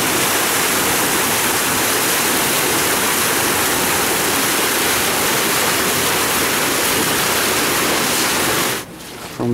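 Water drains out of a large koi pond in a loud, steady rushing roar like a waterfall, continuous and close, then cuts off sharply at the end.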